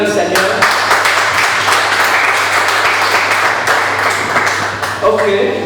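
A church congregation claps and applauds together in sustained, dense applause lasting several seconds, loud and close, with voices mixed in underneath.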